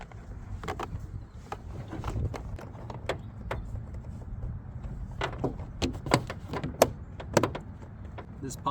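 A rear door trim panel on a 2013-2017 Honda Accord is pressed back onto the door, giving a scattered series of sharp plastic clip snaps and knocks at close range.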